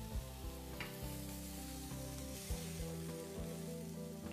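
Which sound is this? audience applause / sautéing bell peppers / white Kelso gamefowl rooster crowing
sautéing bell peppers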